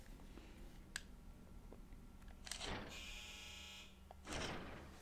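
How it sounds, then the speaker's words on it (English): A laundry machine's low electronic finished buzzer sounds twice, each a couple of seconds long, over a quiet indoor hum with faint clicks. "that's the sound of my roommate's laundry being done"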